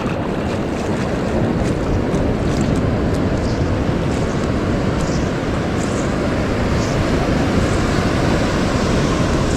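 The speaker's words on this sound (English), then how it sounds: "Those waves are big" Big ocean waves rolling and breaking on Vilano Beach near St Augustine, a steady loud wash of surf with heavy wind buffeting the microphone throughout, no one speaking.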